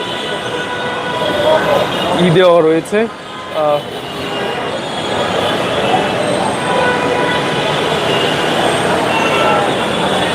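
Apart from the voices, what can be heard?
metro train at a station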